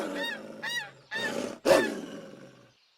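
A loud, close duck-like call from an audiobook sound effect as a duck flees a wolf: several harsh honking quacks, then a longer roaring blast that fades into quiet.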